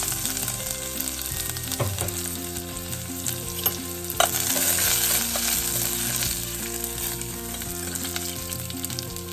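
Garlic and fennel seeds fry in hot oil for a fried eggplant gravy, giving a steady close sizzle with a few clinks and scrapes of stirring. No one speaks.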